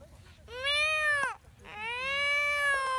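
Two long, clear meows follow one another with a brief pause between them. Both are close and loud against a quiet room, and no one talks.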